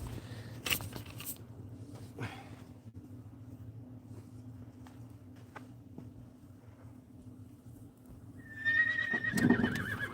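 A horse whinnies loudly near the end after a stretch of quiet low hum and a few faint knocks and steps.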